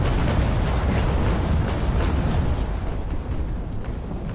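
Cannon fire and explosions in a naval battle between ships during a blockade run, a dense, sustained rumbling roar of blasts and booms thundering continuously at close range without speech.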